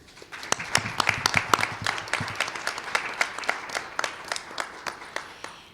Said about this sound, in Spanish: les pido un fuerte aplauso para comenzar con esta mesa